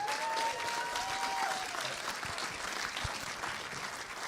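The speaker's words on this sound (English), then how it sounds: "Let's give a big round of applause to Chris Salcedo and Mark Meckler." Audience at a Dallas Jewish Conservative event applauding, a steady dense patter of clapping hands filling the room, with a brief faint tone early on.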